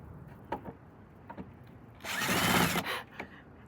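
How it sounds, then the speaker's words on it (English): A short burst of a power drill whirs for under a second during a car build-out, set among scattered knocks and clicks of workshop handling. "Then we move on to the drilling."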